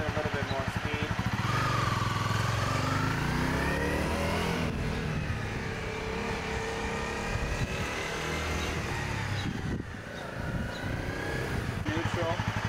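A Honda CBR 250R motorcycle engine gathers speed, a steady revving drone that climbs and falls in pitch as the bike pulls away, with someone talking over it throughout.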